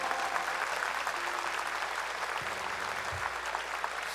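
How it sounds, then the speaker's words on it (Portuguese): Congregation clapping together during a church service, a dense steady wash of applause heard from a distance, with a couple of low thumps near the end. "dê uma salva de palmas a Ele"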